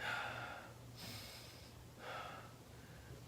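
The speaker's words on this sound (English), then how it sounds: "Traditionally, if I am lying down, one hand on my belly, one hand on my chest, breathing." Close, audible diaphragmatic breaths taken while lying on the back, with about three soft, airy inhales and exhales rising and fading over a few seconds and a low steady hum underneath.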